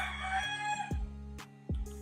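A rooster crows loudly and close, its drawn-out call carrying over a steady low hum, with short sharp thumps at intervals.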